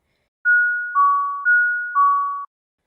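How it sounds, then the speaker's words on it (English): An electronic two-tone doorbell chime rings twice in a row, a clear ding-dong, ding-dong, with silence around it. "I heard the doorbell ring."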